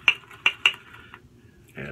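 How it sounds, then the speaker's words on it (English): A utensil stirs shaving soap lather in a shaving cup, making three sharp clinks in quick succession followed by a softer scrape, close and clear with little else around. "Stir it just a bit."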